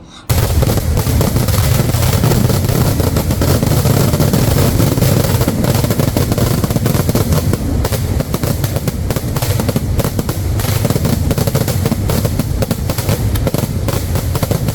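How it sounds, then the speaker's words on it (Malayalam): Fireworks display at a night temple festival in Kerala, a dense, continuous barrage of loud cracks and booming bursts rolling on without letup. "രാത്രി 8 മണിയോടെ ആകാശത്ത് വർണ്ണവിസ്മയം തീർത്ത് വെടിക്കെട്ടും നടന്നു."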